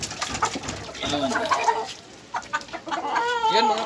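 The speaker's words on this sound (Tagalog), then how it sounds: "Ito yung ating inahin na may tahig." A hen in a small backyard poultry flock clucks several times in short, close bursts, with faint bird and farmyard sounds around it.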